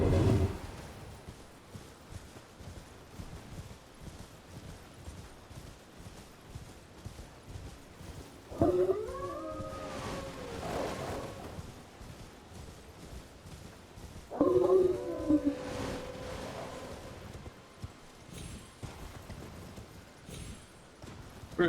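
Dogs howl in Elden Ring Seamless co-op, two drawn-out, wavering howl bursts rising over busy game ambience and footfalls, each lasting a second or two several seconds apart.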